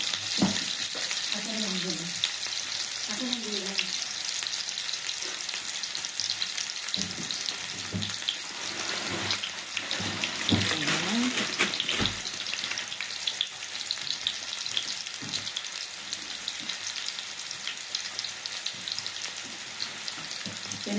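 Chicken liver for adobo fries in hot oil with a constant bright sizzle and occasional stirring clinks, while someone talks intermittently over the cooking.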